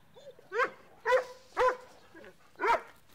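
A dog barks four times in a fairly steady rhythm, sharp and close, with brief quiet gaps between the barks.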